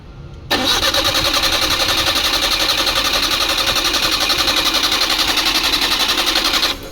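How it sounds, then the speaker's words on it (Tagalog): Suzuki F6A engine cranking without catching: a sudden loud start of rapid, evenly pulsing starter-motor churn that runs steadily for about six seconds and then cuts off, close and alone. "so hindi na talaga umandar ang makina"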